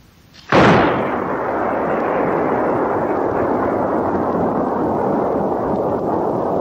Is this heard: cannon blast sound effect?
yes